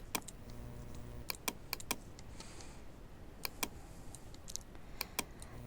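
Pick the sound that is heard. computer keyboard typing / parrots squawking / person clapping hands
computer keyboard typing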